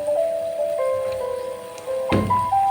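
Garlic chops frying in oil and being flipped, with a steady close sizzle and a sharper burst of crackle as the pieces are turned over.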